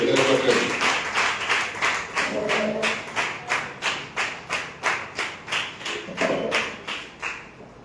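A church congregation claps in a strong, even rhythm, roughly two beats per second, with loud unison claps over a faint murmur of voices.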